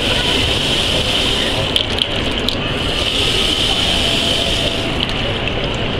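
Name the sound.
water running from Oras Sense kitchen faucet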